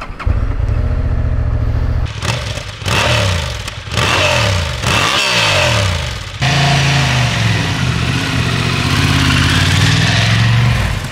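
A 2023 Honda Hornet CB750 motorcycle rides on the open road, its engine loud and close. It revs up through several quick gear changes, then settles into a steady, strong drone.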